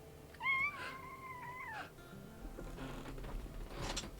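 A single drawn-out cat meow, rising and then bending down, heard close and clear over quiet background shuffling and faint rustles.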